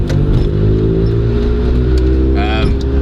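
A rusty Levin car idles at tick over with a steady, low, even engine drone close by, a faint higher whine briefly rising near the end.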